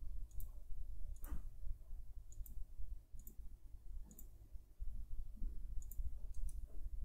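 Sharp, faint computer mouse clicks recur at irregular intervals over a low steady background hum while a 3D model is built in FreeCAD 0.21.2.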